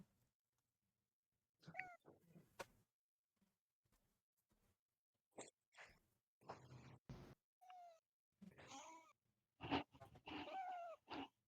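A young cat meows and screams in a string of separate cries, some drawn out and strained, others short and grunting, spaced by silences and heard close through a quiet microphone, with no talking.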